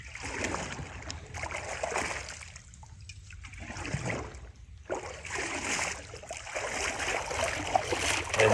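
River water flows and swirls in an eddy at a bend, a steady close trickling and gurgling wash with small splashes, rising and falling slightly throughout.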